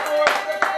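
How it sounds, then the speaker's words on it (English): Applause from a small crowd comes in brief bursts of clapping, with a voice speaking over it. "Let's give her a round of applause"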